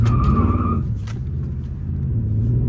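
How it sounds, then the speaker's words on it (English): V8 car engine accelerating hard in traffic, a loud close rumble with a rising rev at the start that settles into a steady low drone. "I got a V8, man. Got a little power. Had to get over in traffic"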